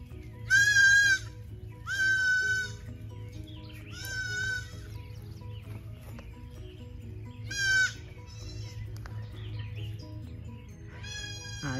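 Several goats bleat loudly in repeated calls across a farm setting during new goat training at a milk stand, close by, with pauses between calls over a low steady background hum.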